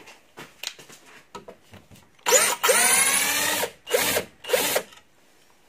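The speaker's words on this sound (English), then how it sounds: "Either use a screwdriver, or even faster, your drill" A cordless power drill backs a screw out of a Multipick bell plug puller locked in a vise, whirring in several close, loud bursts after some quieter handling clicks.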